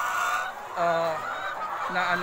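Chickens cluck and cackle nearby in short, overlapping calls against a steady background murmur of an egg-layer flock in Baybay City, Leyte.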